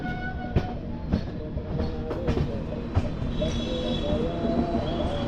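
Duronto Express 12261 AC train running on the tracks, a steady close rumble of wheels with repeated rhythmic clacks over rail joints and a faint high squeal, continuous throughout without talk.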